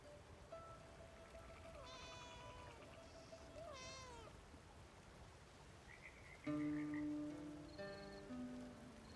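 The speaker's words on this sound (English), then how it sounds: "I hear a cat here" A cat meows repeatedly in the video game Where Winds Meet, a few distinct mid-pitched calls over a soft rain-like ambient bed, followed by brief musical game tones.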